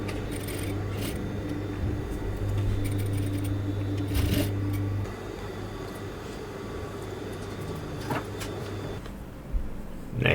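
A sewing machine runs a steady edge stitch along the top edge of a garment, worked from the wrong side, a continuous close mechanical whir with a few short pauses and clicks, loud and alone without talk.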